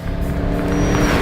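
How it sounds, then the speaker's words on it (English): A 2010 Chevrolet Camaro SS engine drones steadily and evenly under load from inside the moving car, a brief continuous hum with no pauses. "I'm driving the 2010 Camaro SS."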